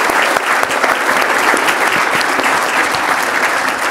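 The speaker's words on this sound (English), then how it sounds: "Let's give a big round of applause to the panel" A forum-and-dinner audience applauds a water policy panel with loud, dense, continuous clapping that holds steady throughout, close and unbroken, with no speech over it.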